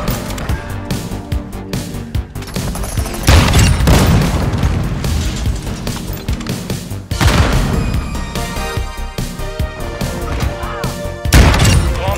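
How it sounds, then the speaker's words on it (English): A bomb in a Search & Destroy video game detonates in a loud booming explosion, followed by heavy rumbling crashes and a few further blasts, dense and continuous. "Stand by to"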